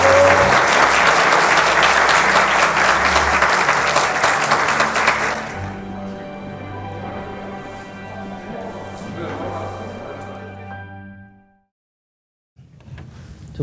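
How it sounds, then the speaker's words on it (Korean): Employees at a company event applaud in a loud, dense burst that thins and fades after about five seconds, with lingering room sound and faint voices before a brief silence and a return of quiet murmuring. "큰 박수 부탁드립니다"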